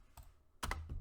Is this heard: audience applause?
no